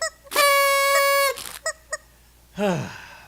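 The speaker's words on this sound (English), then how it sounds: "That chicken's so loud I couldn't even hear the music." A chicken calls loudly up close: one long, strained harmonic cry, then two short clipped notes, and finally a falling squawk, with no talk.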